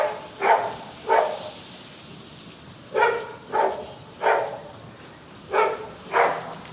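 A dog barks outdoors in spaced pairs, about eight barks in all, moderately distant against a faint windy background, with no speech.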